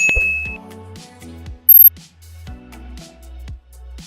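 A notification bell sound effect rings out as a series of clear, resonant dings, each decaying over a low tonal bed, with one brief high-pitched chime in the middle.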